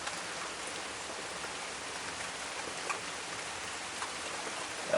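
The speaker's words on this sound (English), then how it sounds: "Oh, here comes some good rain." Rain falling steadily, a soft even hiss of drops with a few slightly sharper taps, fairly faint and uninterrupted.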